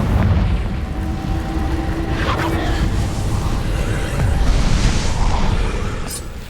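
A Confringo blasting spell erupts in Hogwarts Legacy, a loud rumbling explosion with booming bursts and whooshing debris that sustains for several seconds without letting up.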